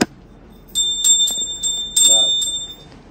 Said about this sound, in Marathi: वाजवा घंटी